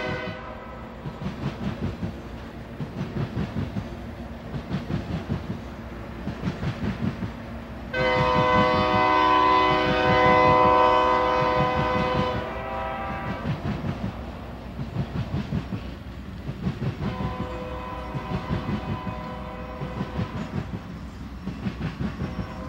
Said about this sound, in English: get a first-hand look at this busy mainline railroad crossing with an 1896 steam locomotive running right through the middle of it